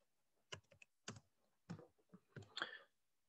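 Computer keyboard keys clicking in a quick irregular cluster of light, close taps, with short pauses between small bursts in an otherwise quiet room.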